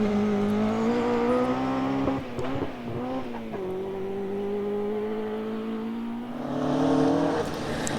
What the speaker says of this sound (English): Stephen Smith had his R2 engined Escort flying on these stages